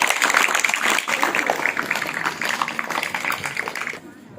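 A crowd applauds at a school student speech event with dense, steady clapping that fades out near the end.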